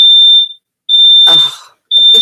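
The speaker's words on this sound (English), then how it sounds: "My smoke alarm is going off." A household smoke alarm shrieks in three loud, piercing high-pitched beeps with short gaps, close by, while a voice briefly exclaims between them.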